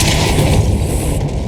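Depulso spell effect in Hogwarts Legacy, a heavy booming thrust of force with a dense low rumble and rattling mechanical texture, loud and close, cutting off shortly before the end.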